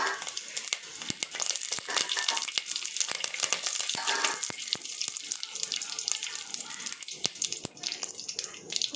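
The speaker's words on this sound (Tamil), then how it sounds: "ஒரு பாத்திரத்தில் கொஞ்சமாக எண்ணெய் ஊற்றி பட்டை, கிராம்பு, ஏலக்காய், சோம்பு, கொஞ்சமாக கருவேப்பிலை எல்லாம் போட்டு" Cinnamon, cloves, cardamom, fennel and curry leaves fry in a little oil in a pot for mutton kulambu. There is a steady close hiss of sputtering oil with frequent sharp crackles and pops throughout.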